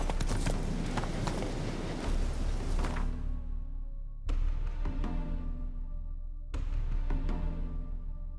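Roach, the horse in The Witcher 3: Hearts of Stone, moves at pace through the game world, steady hoofbeats clip-clopping in a running rhythm, cut by a few sharp bursts and layered with game ambience.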